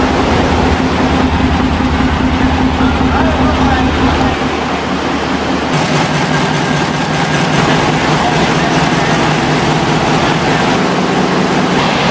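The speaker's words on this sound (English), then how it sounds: "Powered by a Fairbanks Morse diesel, this 180-horsepower relic now serves as a standby and load-peaking unit." A heavy 180-horsepower Fairbanks Morse diesel engine drones steadily and loudly, a constant low rumble with a faint rhythmic chug that shifts pitch partway through.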